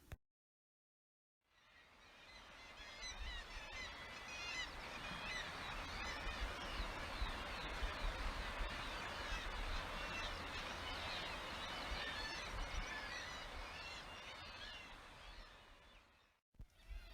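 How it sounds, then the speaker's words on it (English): A dense chorus of kittiwakes calling from a seabird colony on the rocky coast between Cruden Bay and Longhaven, many overlapping raucous cries filling the air continuously at a steady moderate level. "is sometimes full of the noises of kittiwakes. These birds can be recognised by their very distinctive call."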